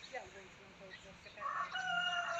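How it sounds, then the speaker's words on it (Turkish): The neighbours' chickens cluck and a rooster crows at a middle distance outdoors, the crow rising toward the end of the clip. "sizin komşuların tavuklarına bak Nazlı"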